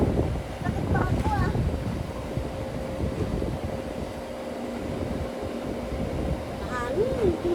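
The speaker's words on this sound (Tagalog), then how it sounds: "Mahangin." Steady wind blowing outdoors on an afternoon, a continuous low rumbling buffet across the microphone throughout, with faint voices and birdlike chirps in the background.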